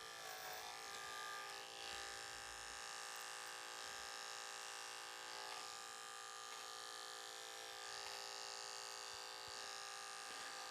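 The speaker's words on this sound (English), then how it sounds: "Let your clipper work." Electric hair clipper buzzing steadily while cutting a short Ivy League style haircut, a close, constant motor hum with slight shifts as the blades move through hair.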